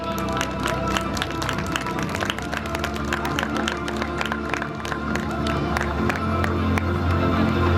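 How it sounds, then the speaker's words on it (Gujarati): A crowd at a nursing college award ceremony claps continuously, dense applause with scattered louder claps holding steady for several seconds without speech. "તાળીઓ ઓછી પડે છે એવું મને લાગે છે."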